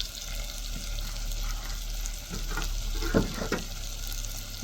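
Spices fry in a pan with coriander powder and turmeric, giving off a steady low sizzle. Near the end a few brief scraping stirs come through. No one speaks.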